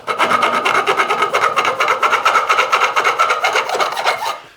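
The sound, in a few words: filing the edges of guitar frets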